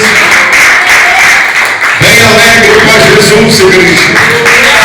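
A church congregation claps along continuously at a service, a dense wash of hands beneath a preacher's loud, exuberant voice that talks over it.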